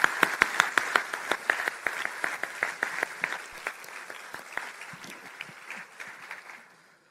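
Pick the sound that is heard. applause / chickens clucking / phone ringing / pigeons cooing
applause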